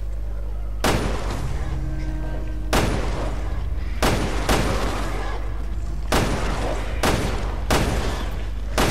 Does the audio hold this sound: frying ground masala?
no